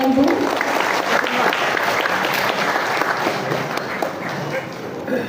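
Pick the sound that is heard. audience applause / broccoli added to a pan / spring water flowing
audience applause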